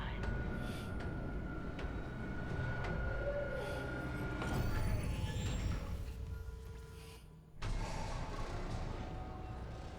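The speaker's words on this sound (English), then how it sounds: "Replacing damaged tram car." Heavy mechanical rumble of a tram car arriving in the Dead Space Remake, with rail-like clanks and a rising whine, a sharp cutoff and restart near the end, loud and continuous throughout.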